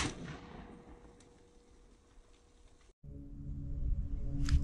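Rounds fired into a National Body Armor Express T-shirt concealable multi-threat vest: a sharp report decays into outdoor ambience, then a later burst of noise rises at the end, fairly faint overall.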